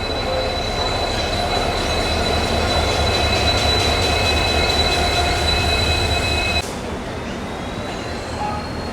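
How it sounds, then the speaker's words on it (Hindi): The Howrah Mumbai Duronto Express rolls along a platform at Howrah railway station, giving a steady loud rumble of wheels with a thin high squeal. The noise drops suddenly near the end as the train slows. "और अब जाके अपनी Duronto express Howrah railway station के प्लेटफॉर्म नंबर 22 पर आई है।"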